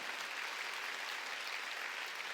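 Congregation clapping during an Easter Sunday service in a church, a faint, even wash of many hands heard from a distance, uniform and unbroken for a couple of seconds.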